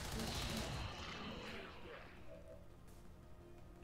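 Gunfire in the video game XCOM 2, a loud burst of shots that decays into a reverberant tail and fades over a few seconds, with no talking.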